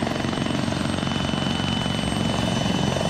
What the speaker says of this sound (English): I'm gonna have them go into the chopper.